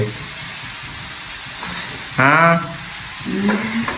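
Vegetables sauté in a pan for a Jaffna-style dish, producing a constant background sizzle with a brief louder burst of hissing and stirring partway through, while a voice briefly speaks near the end.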